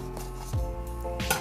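A kitchen knife slices open packaging tape on a cardboard box, giving a short scrape and a couple of quick sharp cuts over low background hum.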